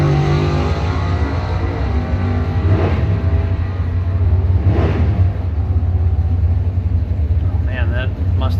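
A Chevrolet Camaro making a drag strip time trial run, a continuous loud engine roar with rising passes, heard alongside crowd and track ambience while an announcer talks over it.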